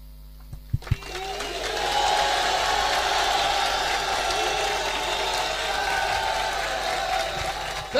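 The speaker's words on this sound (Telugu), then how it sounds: "Can you shout and clap, but the voice of your shout should be more than your clap." A church congregation at a conference bursts into loud, sustained clapping and shouting in praise after a few sharp opening claps, the roar of voices and hands holding steady to the end.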